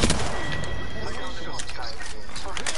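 Dense video game shootout gunfire, rapid overlapping shots and bursts crackling steadily throughout, loud and close, with voices chattering underneath.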